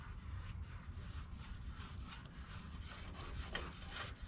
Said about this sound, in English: when you're cleaning, get a rag with WD-40